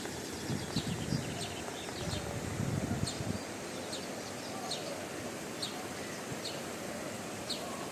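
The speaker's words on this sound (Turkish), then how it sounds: "Kuş sesleri" Birds chirp and sing in short repeated calls over a steady outdoor background hiss, with some rustling in the first few seconds.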